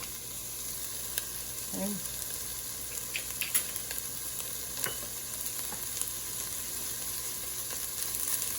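Tomato paste sizzling in a soup pot, a steady hiss running throughout with a few scattered pops and light scrapes, and a brief spoken word early on.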